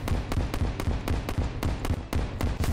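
Bombard shells from a video game mod burst repeatedly on impact, a rapid series of sharp, crackling explosions in an irregular rhythm, loud and close, with no talking.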